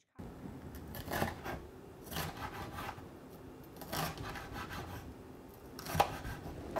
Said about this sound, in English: we're going to cut those little colorful pepper into pieces